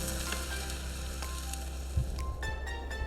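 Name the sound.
fish cooking in a smoker bag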